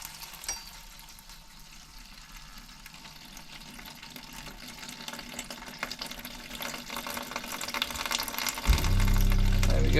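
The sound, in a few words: water poured into pot to rinse paint brushes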